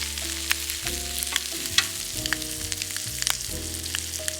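Sausages and bacon fry on a barbecue plate at a campfire cookup, giving a continuous close sizzle with faint crackles, under steady tonal music and with no talking.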